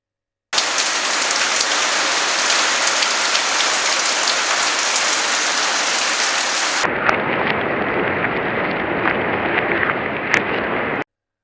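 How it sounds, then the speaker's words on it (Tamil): Heavy rain pours steadily in Bangalore, a dense, continuous hiss of drops hitting surfaces, loud and close throughout, muffling partway through, with no voices. "இங்கே பெங்களூரில் வந்து பார்த்தீங்க அப்படின்னா 2 நாளாக மழை நிற்கவே இல்லை"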